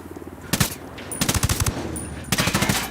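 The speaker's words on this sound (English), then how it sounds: "Tango heard the gunshot." Rapid bursts of automatic gunfire in the PC game Ghost Recon Wildlands: three separate volleys of quick repeated shots, loud and close, with short pauses in between.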